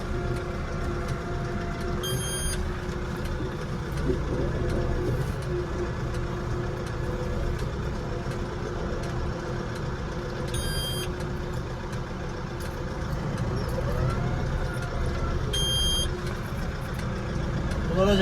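A Landini 5-120 RS tractor's heavy engine idles and rumbles steadily as it shifts back and forth, with three short electronic beeps spaced apart.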